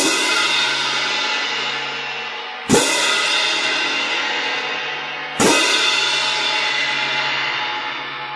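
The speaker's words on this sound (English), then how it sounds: "A lot of times you need to crash loud." Crash cymbals struck loudly together three times a few seconds apart, each bright metallic crash ringing out and decaying slowly into the next, close and alone.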